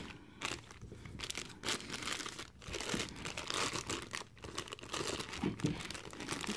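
Plastic packaging around a My Hero Academia Banpresto figure being cut and handled, giving a run of close, steady crinkling and crunching with brief tearing bursts and no voices.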